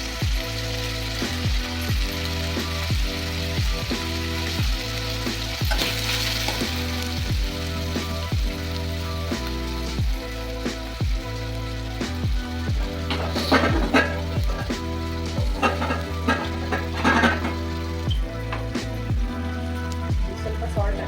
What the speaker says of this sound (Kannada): ಬಟಾಣಿ, ಲೋ ಫ್ಲೇಮಲ್ಲಿ ಬಾಡಿಸ್ತಾ ಇದ್ವಿ.